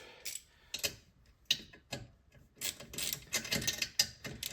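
A ratchet tightening a fitting during a diesel heater install in a garden studio, close clicking bursts in short irregular runs, with no talk.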